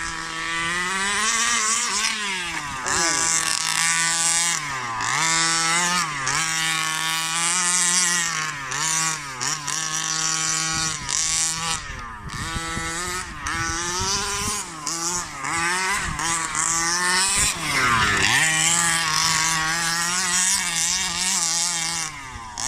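Petrol engine of a Rovan Baja RC car running close by, a loud buzzing two-stroke whine that revs up and down repeatedly with short throttle dips, no voices.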